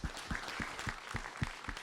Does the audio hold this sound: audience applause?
yes